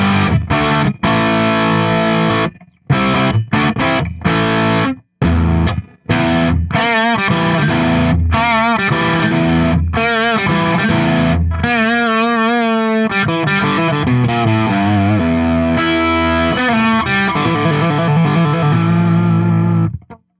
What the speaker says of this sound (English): you can hear that bridge pickup. It's got some punch to it.